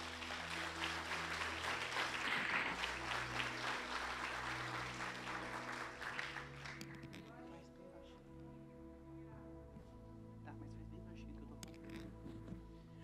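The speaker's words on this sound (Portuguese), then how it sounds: "Aplauda ao Senhor." A church congregation claps during a worship service, a strong burst of applause over sustained organ or keyboard chords, then the clapping thins out and soft music continues alone.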